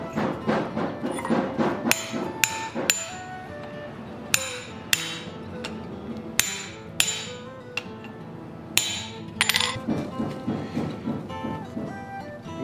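Hot rivet being hammered to set a pair of forged blacksmith tongs, with bursts of rapid hammer blows, sharp metallic rings and pauses between sets, fairly close and without talk.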